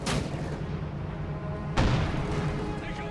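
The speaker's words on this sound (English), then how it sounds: "that mortar is still causing quite a bit of grief there to the Wehrmacht" Mortar fire in the World War II strategy game Company of Heroes 2, two heavy booming blasts about two seconds apart over constant battlefield rumble and background gunfire.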